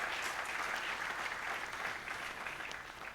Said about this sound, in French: Je vous demande d'applaudir Samuel Eto'o pour cela.